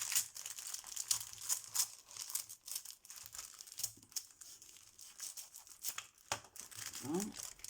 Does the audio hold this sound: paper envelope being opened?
yes